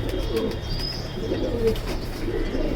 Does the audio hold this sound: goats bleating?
no